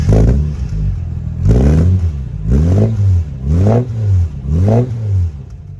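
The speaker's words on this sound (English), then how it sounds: "The exhaust really does have a good note, and the car sounds really good" A Jaguar E-type fitted with an upgraded stainless steel exhaust revs repeatedly, about five close, loud blips rising and falling in a steady rhythm after an opening sustained roar.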